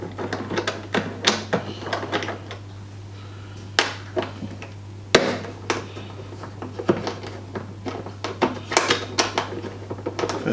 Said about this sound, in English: you get this little Allen key that comes with it, and basically you've got two bolts in the top of the bolt here. You just unscrew them